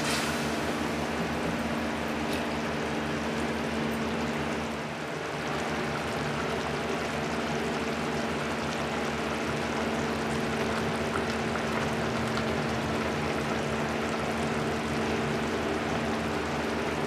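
Water poured into a potato and capsicum curry in a kadhai, cooked village style, makes a steady, continuous rushing splash that holds for the whole stretch with no voices.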